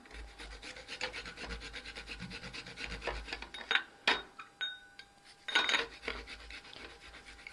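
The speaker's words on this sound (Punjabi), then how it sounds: "ਖੀਰਾ ਆਪਾਂ ਇਦਾਂ ਹੀ ਗ੍ਰੇਟ ਕਰ ਦਿੰਨੇ ਤੇ ਇਹਨੂੰ ਆਪਾਂ ਗ੍ਰੇਟ ਕਰ ਲੈਣੇ ਆ ਖੀਰੇ ਨੂੰ" A fresh cucumber is rubbed against a hand grater in a home kitchen, giving steady rasping strokes close by with a few sharper scrapes and clinks, and no voices.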